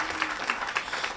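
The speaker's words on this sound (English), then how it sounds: "let's applaud Elmo in absentia." An audience at an Africana Studies departmental ceremony claps in brief, soft applause, scattered hand claps close by that stop quickly.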